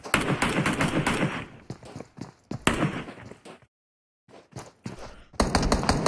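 Gunfire in a battle royale video game esports match, sharp bursts of automatic fire and single shots in rapid clusters, loud and close with brief silent gaps between volleys.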